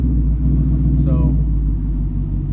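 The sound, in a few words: passing vehicles on a street in Mexico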